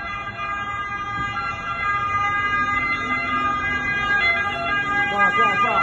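Fire engine sirens arriving at a burning car, a steady multi-tone wail sustained over road traffic rumble, rising slightly as the trucks draw near, with distant voices underneath.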